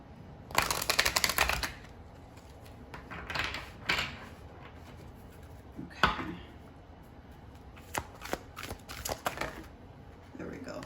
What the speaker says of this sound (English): I'm going to pull another oracle card. Let me give this a good shuffle.